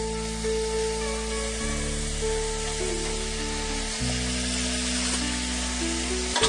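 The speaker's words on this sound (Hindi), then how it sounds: "मैं अब इसमें तेल डालूंगी" Oil poured into ginger garlic paste in a hot pan for a chickpea dish sets off loud, continuous sizzling and frying, heard close up over sustained background music.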